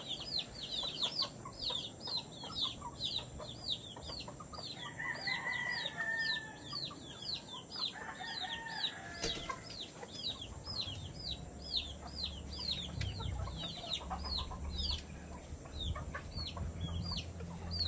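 Roundhead fighting rooster kept with ten Sweater hens at a gamefowl farm, with rapid repeated clucking and fowl calls running steadily throughout at moderate distance over a low outdoor background rumble.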